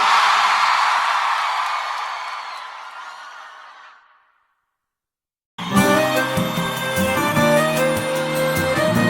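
A sertanejo concert crowd in Salvador at a show shouts and cheers loudly, then the roar fades away into silence before the band's music kicks in.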